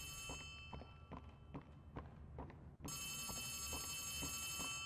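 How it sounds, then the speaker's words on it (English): An in-game telephone rings in the horror video game Poppy Playtime Chapter 3, a faint repeated ringing pulse with footsteps thudding beneath it, quiet and somewhat distant, then a brighter tone enters partway through. "I hear a phone. Better go answer it."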